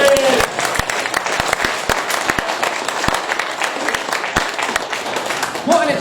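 A crowd at a political rally breaks into steady, loud applause with scattered sharp individual claps standing out, continuing throughout and mixed with some voices.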